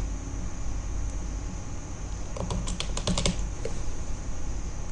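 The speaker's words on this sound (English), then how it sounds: "I'm going to type my name." Someone types a name on a computer keyboard while installing Ubuntu, a quick burst of close key clicks over a steady background hiss, with no voices.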